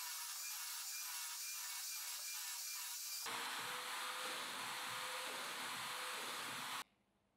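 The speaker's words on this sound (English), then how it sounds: "I drill the first hole and make sure the steel rod is plumb." A drill works into a wooden workbench top for a steel rod hole, its whirring and rasping wood noise running steadily and loud before cutting off sharply.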